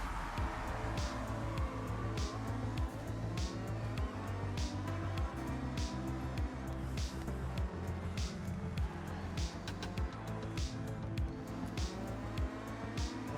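A video game car engine idles with a steady, pulsing low rumble throughout, joined by faint clicks and ticks over the continuous drone.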